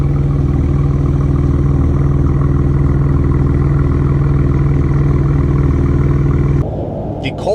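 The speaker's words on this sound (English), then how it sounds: "The idle is just so like bassy. I don't know how this inline 6-cylinder sounds so good at idle." A Ram RHO inline six-cylinder idling through an AWE exhaust gives a steady, deep, bassy rumble that stays loud and close for most of the clip. Near the end it cuts off abruptly, leaving faint background noise.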